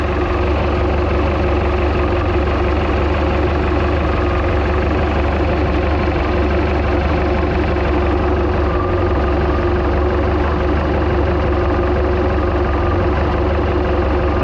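A 1976 Mercruiser 120 hp boat engine idling with the cover off, a loud, steady low rumble that holds constant throughout with no talking.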